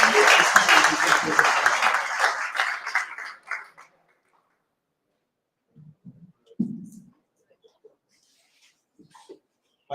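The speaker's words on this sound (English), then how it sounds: "and then a big applause for" Conference audience at PRODUCTWORLD 2023 in Opatija breaks into loud, dense applause that fades out after about three and a half seconds, leaving near silence with a few faint scattered noises.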